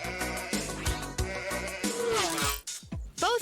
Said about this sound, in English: Just like Snowflake, the sheep ate pellets and lived in a barn.